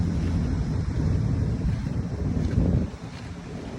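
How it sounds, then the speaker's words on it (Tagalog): Strong wind buffets the microphone over crashing waves along Manila Bay, a loud steady roar with broadband gusts that ease slightly near the end; no voices. "malakas ang hangin, malakas ang alon."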